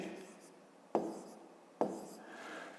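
A pen writing a math result on paper, soft scratchy strokes nearby, with two sharp taps as the pen touches down, quiet and close.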